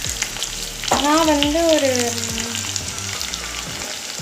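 Large onions sauté in a pan for a mixed vegetable gravy, cooking toward golden brown. A steady frying sizzle runs throughout, with a voice briefly talking over it.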